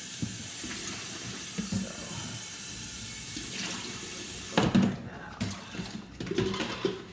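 Dirty hot water, used for curling braids, is poured out of a cup, making a burst of splashing and trickling from about the halfway point that runs down a sink, near and moderately loud after a quieter stretch.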